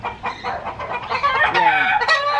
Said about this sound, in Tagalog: May kipagpaligsahan tayo sa ingay ng mga manok.